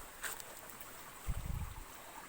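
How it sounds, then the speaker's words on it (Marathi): Water pours out of a village gutter channel, a faint rushing flow with a brief louder gurgling splash partway through, heard close and without voices. "इथून पाणी बाहेर पडतंय बघा"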